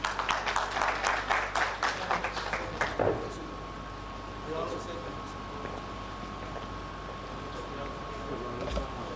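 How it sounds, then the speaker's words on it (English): Audience applause at a higher education funding and graduate employability event fills the first three seconds, then stops abruptly, leaving a steady hum and quiet room murmur. "Can we clap for him now?"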